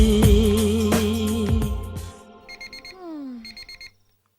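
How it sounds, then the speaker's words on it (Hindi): A film scene where music fades out and an alarm clock starts ringing in quick repeated electronic beeps, arriving in two short bursts before falling silent. "ए जी अलार्म बज रहा है"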